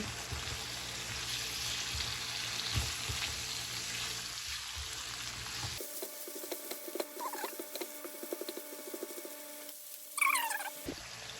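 Pancit bato being stirred with oyster sauce in a frying pan, a dense sizzle and scraping patter that cuts out midway, then sparse clicks, taps and a brief bright clatter near the end, close and without talk.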